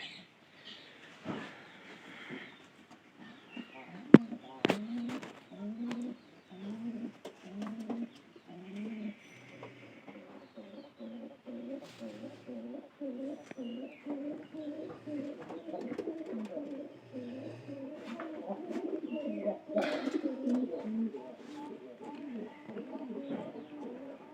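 Pigeons of a local Bengali breed cooing close by in a loft, a steady run of soft throaty low coos repeating through the whole stretch, with faint wing or body rustles and a few brief clicks.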